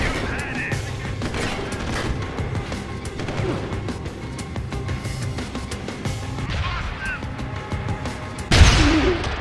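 Video game combat from Deus Ex: Human Revolution, a grenade launcher among the weapons, with a busy mix of shots and impacts throughout and a loud blast bursting out near the end.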